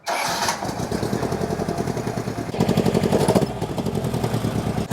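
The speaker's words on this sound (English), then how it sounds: "Pinto purring." A Ford Pinto engine in a Mk1 Escort RS cranks and catches, then settles into a steady, throbbing idle close by, with a brief rise in revs partway through.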